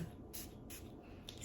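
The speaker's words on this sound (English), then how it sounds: "let's go ahead and spray this on my finger" A small perfume sample atomizer is sprayed onto a finger, giving several short, faint hissing puffs at a steady rhythm over quiet background.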